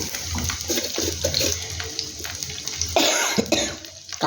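A person coughs several times in a home kitchen, with running water and clatter in the background and no speech.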